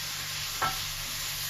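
Vegetables for goulash sizzling steadily in a pot, with a broad, even frying hiss and one brief stirring scrape partway through, close and continuous without talk.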